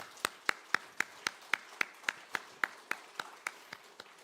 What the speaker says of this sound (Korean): 격려의 큰 박수를 드리겠습니다.